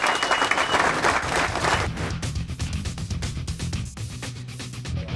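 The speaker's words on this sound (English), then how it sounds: "Give yourself a round of applause." Team members applaud in a Buffalo Bills meeting room, a loud burst of dense clapping that thins after the first couple of seconds into scattered claps and some crowd noise.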